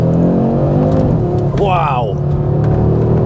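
A 2022 Audi RS3 saloon with a quattro drivetrain and five-cylinder engine pulls hard under full throttle from first gear, its rising engine note filling the cabin as a voice exclaims over it and talk continues.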